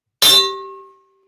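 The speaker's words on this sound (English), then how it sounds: "hit that notification bell" A single bright bell ding rings out as a notification chime, striking sharply and then ringing with a clear sustained tone that fades over about a second.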